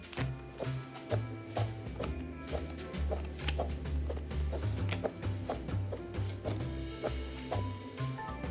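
Rapid, steady chopping taps of onions being cut in the cooking video game Abra-Cooking-Dabra, a quick rhythmic series of light knocks over a low background hum.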